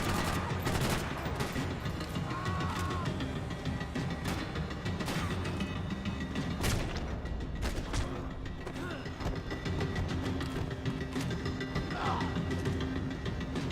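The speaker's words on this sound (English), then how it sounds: "using an SMG is better" Sustained submachine gun fire rattles through a Max Payne 3 firefight in rapid bursts and scattered shots, loud and continuous over a busy backdrop of game effects and mechanical clatter.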